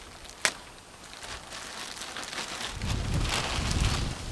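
Outdoor wind gusting around a person making a survival poncho, a steady low rushing that swells louder in the second half, with one brief sharp rustle early on.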